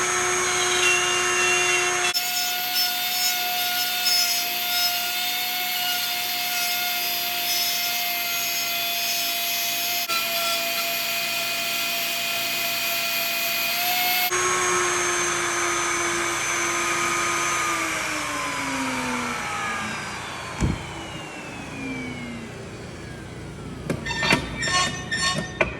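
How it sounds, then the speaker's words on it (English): A plunge router with its bit cuts a bear shape into a wooden sign, giving a loud, sustained high whine from the motor whose pitch shifts and dips as it bites into the wood, ending with rattling handling sounds. "I'm going to turn the router on. Plunge down in."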